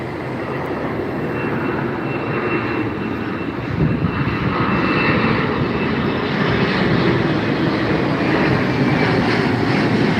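A large military plane takes off at LAX, its engines producing a loud, sustained roar that builds slightly partway through and holds steady.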